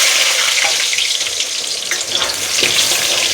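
Steady sizzle of pieces frying in hot oil as the first step of a chicken and potato curry, loud and continuous with faint clinks and scrapes, no voices.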